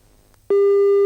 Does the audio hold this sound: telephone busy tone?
yes